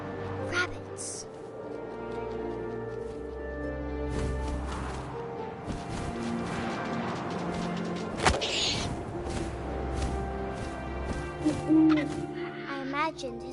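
Owl hoots in the video game What Remains of Edith Finch, set against a layered ambient bed of wind and game music, with a few soft thuds and swishes mixed in.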